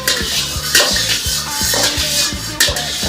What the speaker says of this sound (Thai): เราต้องผัดหมูก่อนให้หมูสุก